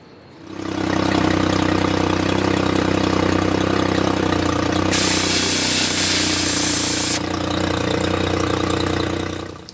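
A small Honda four-stroke outboard engine runs steadily after an oil flush, a loud continuous low engine drone with a hissy burst partway through, heard alone without talk.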